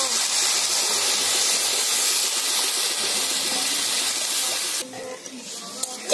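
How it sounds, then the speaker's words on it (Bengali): Water pours loudly and steadily into a pan of spiced oil for Bengali hilsa fish curry, a broad close hiss and gush that stops abruptly near the end, leaving faint small clinks. "এবার এতেই দিয়ে দিচ্ছি পরিমাণ মতো জল।"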